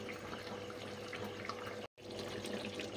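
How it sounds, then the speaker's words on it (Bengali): Bengali fish curry with fried eggplant to come, simmering in a pot: a faint, soft continuous bubbling and liquid burble with small pops, broken by one brief gap of silence, no voices. "আমার মাছের ঝোলটা খুব ভালোভাবে ফুটে গেছে"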